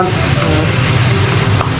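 Fish belly fries in a hot wok with cold oil, a loud close sizzle crackling and spitting continuously.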